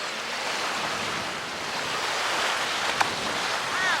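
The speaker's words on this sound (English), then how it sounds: "This is Chinaman's Beach." Ocean surf at Chinaman's Beach in Sydney makes a steady, broad wash of waves with some wind noise across the microphone, continuous and fairly loud with no talking.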